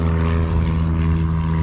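A modified car converted into an El Camino, with red-tinted windows and a '73 plate, rumbles at a Detroit Gambler 500 gathering. Its loud exhaust gives a steady, deep droning roar close by, with no talking.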